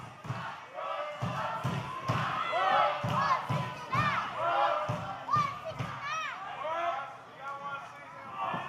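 A wrestling crowd at a live show chants and shouts in rhythmic surges, loud and close, with voices mixed through the din.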